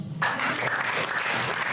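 A church congregation claps in praise to God: after a short quiet moment, dense, steady applause breaks out and carries on evenly to the end.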